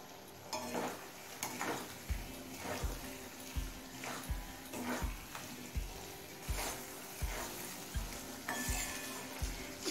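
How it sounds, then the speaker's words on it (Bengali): Achar (pickle) with sugar is stirred in a pan over a medium flame. Regular scraping strokes of the spoon repeat about once a second over a soft, continuous sizzle. "এবার চিনিটা গলে আসা পর্যন্ত আচারটা নাড়াচাড়া করে নেব।"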